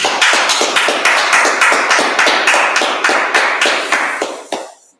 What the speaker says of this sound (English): All right, we live, clap it up.